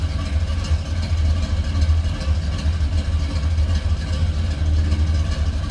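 A 1966 Chevrolet Impala Wagon idles steadily, heard from behind the car near the exhaust, with a loud, low, rhythmic rumble that holds evenly throughout.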